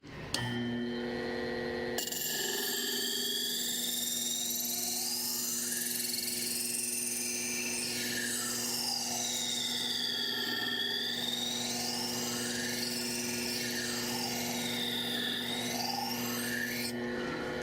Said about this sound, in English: we're going to cut in a clean bevel